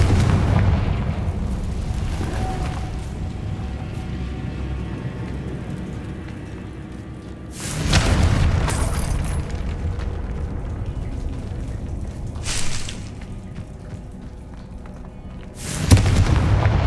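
Confringo explosion spells cast in Hogwarts Legacy: three loud booming blasts a few seconds apart over a quiet, low ambient bed.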